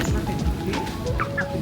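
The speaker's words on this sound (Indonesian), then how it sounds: "Di sini ada 3 jenis macam ayam." Broiler, kampung and kate chickens clucking close by, a dense overlapping chorus of low clucks and a couple of higher rising calls over steady farmyard background.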